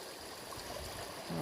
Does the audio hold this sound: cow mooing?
no